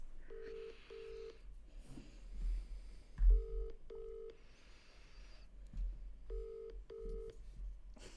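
A telephone dials out to call Mum: clear paired dialing tones repeat in short bursts, separated by brief gaps with soft background rustle, quiet and close as if heard through the handset.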